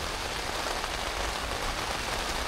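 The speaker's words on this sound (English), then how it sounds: "12 hours of this uh, torrential rain." Torrential rain drums on a budget hot tent as a dense, steady hiss of countless drops, close and continuous, with no other sound.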